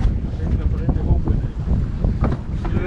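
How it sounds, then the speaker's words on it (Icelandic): Wind buffets the microphone aboard a racing sailboat at an Icelandic championship regatta, a loud continuous low roar with gusty pulses, while crew voices talk over it. "Þið eru líka með fína vind hérna."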